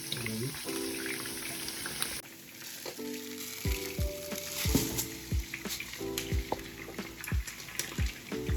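Grated garlic, onion and rice fry in hot oil with minced meat and dried rosemary, giving a steady close sizzle broken by scraping, stirring knocks. A voice talks over it.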